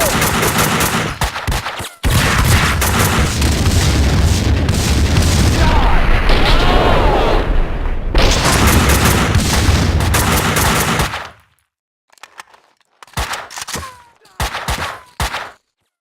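A grenade explosion and heavy gunfire from the video game Max Payne, loud and dense, with sustained bursts and booms that cut off abruptly. Several short shot bursts follow after a brief silence.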